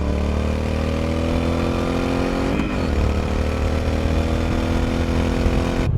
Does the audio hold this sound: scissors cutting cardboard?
no